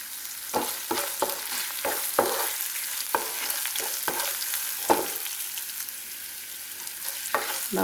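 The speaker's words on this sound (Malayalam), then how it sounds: "ഇനി നമുക്ക് മുളക് ഇട്ട് കൊടുക്കാം" Chili frying in a pan of oil for a lemon pickle, with a bright continuous sizzle and a spoon knocking and scraping in irregular strokes, close and moderately loud, with no voices.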